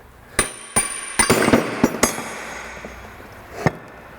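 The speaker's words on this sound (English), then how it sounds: "I expected that, but a hammer will cure it." A hammer strikes near the rear wheel bearing of a 2004 Ford Explorer, with about eight sharp metallic blows, mostly in a quick irregular run, loud and close with ringing decay.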